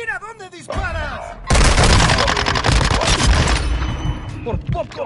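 Loud, dense burst of automatic gunfire and booms in the shooter Warzone 2, a sustained fusillade lasting a couple of seconds, with a voice speaking before and after the shots.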